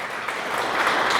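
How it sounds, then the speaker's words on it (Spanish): A church congregation breaks into brief applause for Jesus, a dense hiss of hands clapping that swells slightly toward the end, with no talk over it. "Otro aplauso para Jesús."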